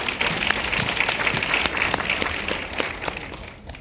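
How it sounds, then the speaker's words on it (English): A conference audience gives the presenters of a fair-housing session on bias in property appraisals a round of applause: steady, dense clapping that fills the room for several seconds, then begins to thin out at the end. "Let's give both of our presenters a round of applause."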